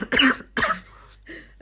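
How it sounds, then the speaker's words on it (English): A person coughs twice in quick, sharp bursts at close range, followed by a softer throat-clearing rasp, with no talking. "If I cough a little bit, excuse me."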